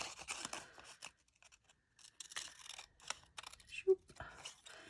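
Scissors snip through paper while cutting out a small triangle for a melted snowman's nose in a craft activity, a few close crisp cuts with a person talking around them.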